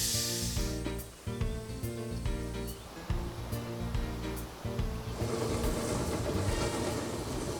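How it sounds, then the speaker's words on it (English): Steam train running through Steinbach near the Waterhouse, a steady rolling rumble with rhythmic clatter and hiss, loud and close, with occasional sharp metallic clicks and a denser stretch toward the end. "Charming steam train ambience was also offered in Steinbach around the widely known"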